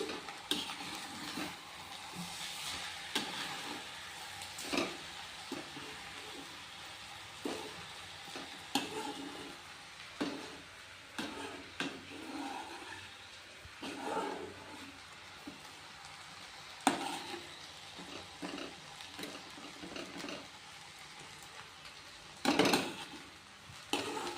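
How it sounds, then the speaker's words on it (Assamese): Jalpan snack being stirred in a pan, with a steady sizzle underneath and repeated scraping and clinking strokes of a spoon against the metal, close and fairly quiet, with no talking. "বাহিৰত আছে এনেকৈ জলপানখিনি লাৰি দিম"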